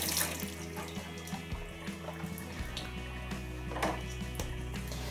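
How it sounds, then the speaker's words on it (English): A washing machine detergent drawer from a Hotpoint Aquarius is rinsed under a kitchen tap, with steady running water splashing against the plastic tray and occasional knocks as it is turned, close and moderately loud. "clean that with a quick rinse"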